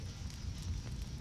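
Fire crackles and roars steadily in the Spider-Man: Miles Morales video game on PS5, a soft, continuous rumble with faint hiss, no talking over it.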